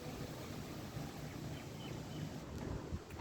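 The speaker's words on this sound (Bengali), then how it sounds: "খুব সুন্দর বাতাস শুরু হয়েছে।" Wind sweeps steadily along the bank of the Shitalakshya river as clouds roll in, a continuous low rumble and buffeting against the microphone with faint hiss above, no voices.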